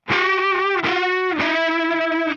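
An electric guitar played through high-gain distortion rings out in a few sustained, buzzy notes with a brief break between them, loud and close.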